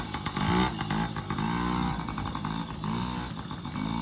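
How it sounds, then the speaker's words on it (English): A plastic bottle flapping against a bicycle tire while riding, a continuous buzzing drone rising and falling like a dirt bike engine, loud and close with no talk. "It makes a loud noise like a dirt bike because I put a bottle on my tire."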